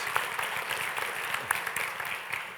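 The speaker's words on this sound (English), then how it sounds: "Get another round of applause" An audience at a service awards gathering applauds a 50-year anniversary, steady, fairly faint clapping from a crowd that continues evenly throughout, with a little background chatter.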